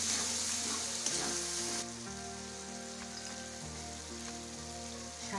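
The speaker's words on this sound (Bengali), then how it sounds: "এখন এই যে ফেটিয়ে রাখা দইটা দিয়ে দিচ্ছি। দই দিয়ে আর একটু কষিয়ে নেব।" Spice paste with whisked yogurt stir-fried in a pan gives a steady, close sizzle that is bright at first and then softens, with background music playing throughout.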